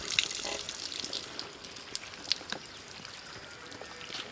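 Water is poured over curdled milk to rinse it while making rasmalai in a village kitchen, a faint, soft splashing and trickling with a few brief drips, with no voices.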